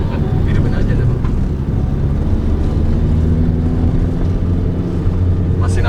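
Car engine laboring up a steep climb, a loud continuous low drone with road rumble throughout, and people talking inside the car.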